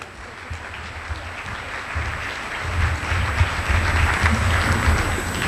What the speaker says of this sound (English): How about a big round of applause for the softball team?